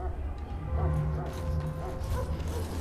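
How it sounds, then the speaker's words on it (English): A dog barks and yips in the fantasy role-playing game Dragon Age: Origins, a few short close barks and whimpers under a low background hum, with talk nearby. "Doggy."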